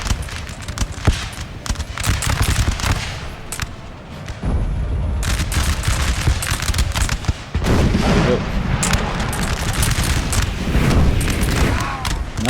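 Musket volleys and artillery fire in the Napoleonic battle game Napoleon Total War, dense crackling gunfire and repeated booms filling the whole stretch, with a voice talking over it at times.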